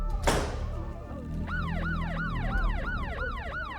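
An emergency vehicle siren wails in a neighborhood street, a loud repeating rising-and-falling yelp cycle after a brief burst of noise, with traffic rumble underneath.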